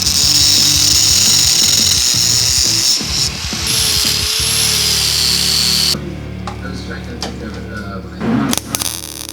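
Close, loud power-tool cutting through a metal clutch cable yoke, grinding in rough bursts for several seconds before stopping, followed by quieter handling clatter.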